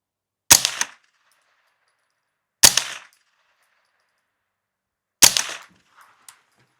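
Three loud, sharp rifle shots from a Smith & Wesson M&P 15-22, each a crisp crack with a short ringing tail, spaced about two and a half seconds apart and heard alone with no talking.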